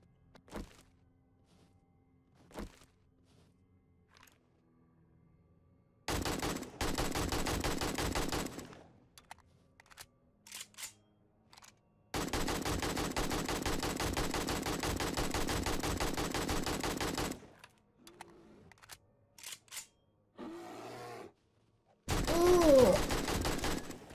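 Rapid automatic gunfire in a video game comes in several long sustained bursts with scattered single shots and quieter gaps between, loud and close.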